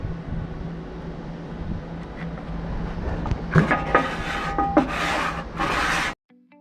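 A metal scraper runs across the flat steel surface of a Blackstone griddle during restoration, making harsh rasping strokes over a low background hum that grow louder toward the end and then stop abruptly.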